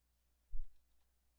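A single soft computer mouse click sounds once, quiet and close, in an otherwise near-silent room.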